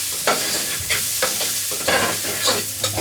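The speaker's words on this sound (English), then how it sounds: "Now my onions have browned up very well." Chopped onions browning in a pan, sizzling steadily while a utensil stirs them in short scraping bursts, close and moderately loud with no talk.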